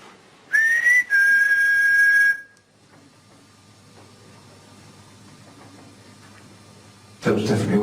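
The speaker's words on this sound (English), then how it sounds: "There was definitely a whistle there." A person whistles a sustained rising note, then a steady held tone for about two seconds, followed by quieter background rumble and a burst of noise at the end.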